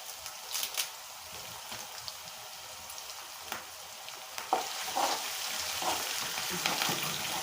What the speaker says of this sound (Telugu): అల్లం వెల్లుల్లి పేస్ట్ పచ్చి వాసన పోయేంత వరకు ఇలా ఫ్రై చేసుకోవాలి